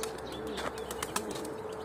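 Tumbler pigeons flying over a balcony give off a soft, continuous flutter of wingbeats, with a few brief sharper flaps standing out against steady background noise.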